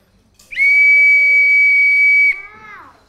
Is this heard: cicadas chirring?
no